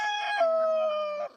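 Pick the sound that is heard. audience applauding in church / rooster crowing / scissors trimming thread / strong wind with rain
rooster crowing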